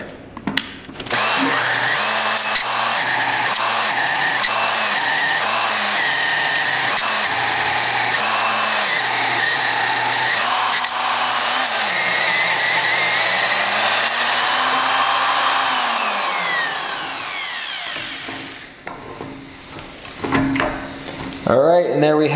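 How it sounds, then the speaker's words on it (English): A 3/4 inch drill bit bores into a thick cast iron fabrication table, giving a loud sustained whine with a steady motor hum and pulsing low chatter for about fifteen seconds before spinning down into clanks. "we are now mounted up with the 3/4 inch drill bit."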